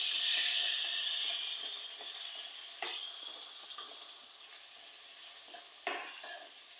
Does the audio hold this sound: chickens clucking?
no